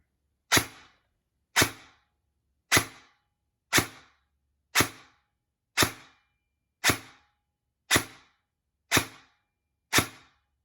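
Ten evenly spaced airsoft gun shots fire 0.20 gram BBs through a chronograph, each a sharp, close snap with a quick decay, separated by silence.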